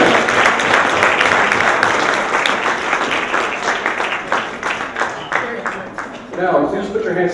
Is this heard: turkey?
no